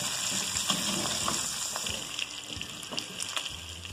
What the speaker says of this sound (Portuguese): A linguiça já deu uma boa refogada aqui, uma pré-fritada